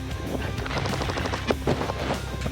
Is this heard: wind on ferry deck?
no